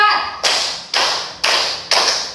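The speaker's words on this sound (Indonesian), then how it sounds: "Tepuk 1, tepuk 2, tepuk 3, tepuk 4" A class claps together four times in unison during a teaching practice session, each sharp group clap evenly spaced about half a second apart, following a brief voice at the start.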